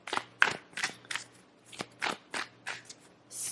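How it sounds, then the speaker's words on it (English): Tarot cards riffled in a quick shuffle, giving a run of crisp, papery bursts roughly every third of a second, close to the microphone against a quiet room with a faint steady hum. "Just like to give this a quick shuffle."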